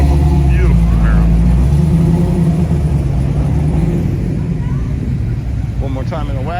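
A 1969 Chevrolet Camaro at a Wednesday surf-city classic cruise night rumbles loudly and steadily with low engine throb, under ongoing talk and crowd noise, with voices toward the end.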